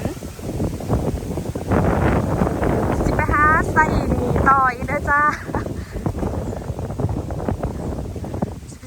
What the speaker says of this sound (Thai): ทั้งลมทั้งฝน